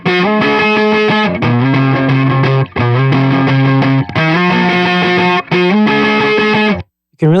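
Electric guitar played through Vulture distortion and Nembrini Double Reverb plugins, a loud, driven, reverberant chordal line with sustained tones and brief gaps, alone throughout.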